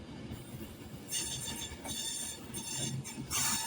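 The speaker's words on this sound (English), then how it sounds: "there goes 390-104. Avanti West Coast services from Edinburgh Waverley to Glasgow to London Euston." Avanti West Coast Class 390 Pendolino 390-104 running through Carlisle on the West Coast Main Line, a steady rolling rumble with rising wheel and rail noise as the carriages pass fairly close, no voices.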